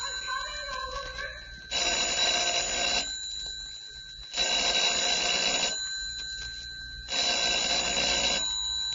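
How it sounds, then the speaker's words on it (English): A telephone in an empty house on an old-time radio horror show rings in three long, loud bursts separated by short pauses, with a steady electronic tone and no voices. "Telephone ringing in an empty house."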